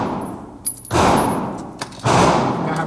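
Gunshots at an outdoor shooting range: two loud, close reports about a second apart, each followed by a lingering roar of echo, with faint background noise between.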